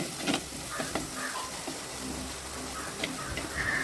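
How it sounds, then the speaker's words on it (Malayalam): Crushed spice mix for Kerala-style rasam sautéing in a pan, giving a soft continuous sizzle with occasional light ticks and scrapes of stirring, close and fairly quiet throughout with no talk. "അപ്പോൾ ഇതെല്ലാം കൂടി നല്ലവണ്ണം മൂത്ത് വരുന്നത് വരെ ഒന്ന് വഴറ്റിയെടുക്കാം."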